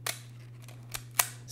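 A Leica M2 rangefinder with a cloth focal-plane shutter fires with a soft, quiet click, a couple of faint mechanical ticks over a low steady hum.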